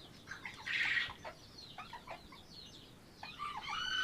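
Several hens and roosters, blue, black, silver duckwing and black-breasted red Old English game birds, cluck and call in a coop yard, a louder squawking burst near the start and scattered clucks and calls through the rest.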